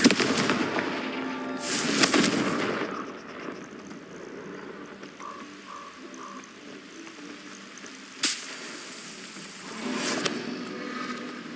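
Confringo blasting spell explosions in the Hogwarts Legacy game, a few loud bursts with crackling, sizzling fire tails separated by quieter stretches of ambient rumble.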